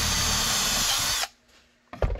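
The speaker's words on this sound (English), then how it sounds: "let's drill a hole in this." A power drill whines loudly and steadily for over a second drilling a hole in a Canik TP9 SFx holster piece, then stops abruptly, followed by a brief clunk.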